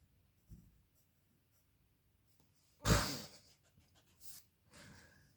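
Handwriting on paper while working through word problems, with a few faint scratchy strokes, a loud sigh-like breath midway and soft breathing around it.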